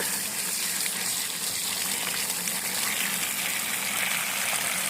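Water runs steadily from a tap at a village home in rural Konkan, a constant close gushing hiss with no pauses.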